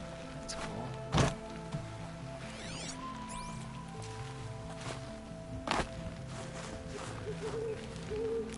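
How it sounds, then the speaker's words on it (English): An owl hoots in the snowy wilderness of Horizon Zero Dawn: The Frozen Wilds, faint calls over a steady music bed, with a couple of thudding footsteps and a sharper knock nearby. "Owls, huh? That's cool."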